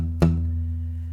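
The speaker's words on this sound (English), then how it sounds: "it creates this muted sound like this" A single palm-muted guitar note is plucked with the palm resting on the bridge, giving a short, dull thump against a steady low hum, heard alone with no talking.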